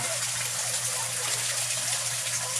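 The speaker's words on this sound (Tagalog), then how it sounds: "check na po natin kung gaano po ba kalakas yung 45 watts na air compressor" A 45-watt Risan air pump bubbling water in a koi pond, a steady dense hiss of fizzing and gushing bubbles over a low motor hum, close and continuous.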